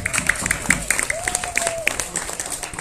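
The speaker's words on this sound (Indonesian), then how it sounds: "Tepuk tangan untuk Mas Putra" An audience applauds Mas Putra after a national reflection speech, with scattered claps ringing out over a brief tone and some crowd noise.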